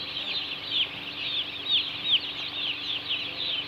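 Young broiler chicks chirp continuously in a steady overlapping chorus of high peeps, moderately close with a soft background hum.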